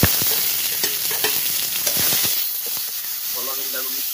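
Onions and tomato with green chilli frying and being stirred in a pan, a loud steady sizzle broken by sharp scraping strokes of the spoon, easing off toward the end.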